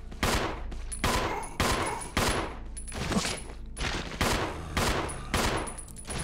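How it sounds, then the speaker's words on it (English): Rapid bursts of gunfire in the video game Resident Evil 0 HD, loud repeated shots in a steady rhythm over about six seconds, with no talking over them. "Can I just shoot it good?"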